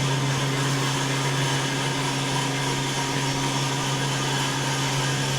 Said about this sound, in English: I don't know if you can hear me over the welder.